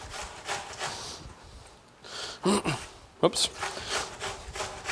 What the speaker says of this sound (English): So I'm going to grate some fresh onion.